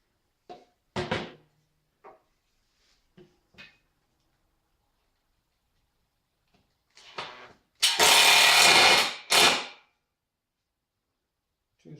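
A power drill driving screws into wooden model railroad benchwork, with short clacks and handling knocks, then a loud, close whirring burst of drilling that stops and briefly resumes in a quiet room.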